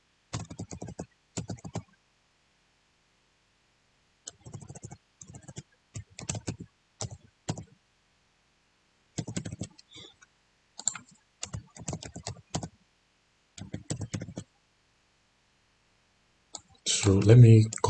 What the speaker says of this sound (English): enter your password and then confirm